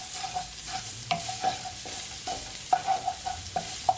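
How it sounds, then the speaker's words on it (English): Garlic hits hot oil in the same pot used to fry shrimp, crackling with a soft sizzle while a utensil clinks and scrapes in quick, irregular strokes. "I'm gonna add my garlic to the same pot that I fry my shrimp"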